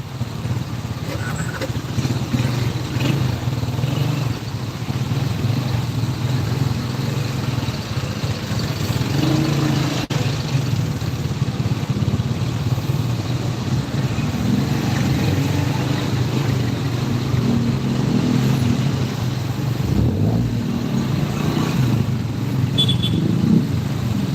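Road traffic in Pangasinan during a political caravan fills the scene with a continuous low rumble of car and motorcycle engines, steady and unbroken, with no clear voices.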